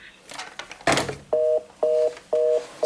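A desk phone on a 3CX VoIP office system is picked up after handling noises, followed by a steady pulsing tone repeating about every half second, close and clear with no talking.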